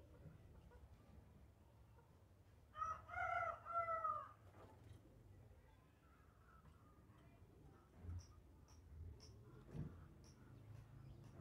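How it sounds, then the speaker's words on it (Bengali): A Brahma chicken gives a single clear crow of just over a second, moderately loud against a low background hum, followed by faint, sparse chirps and clucks. "ব্রাহ্মা মুরগি"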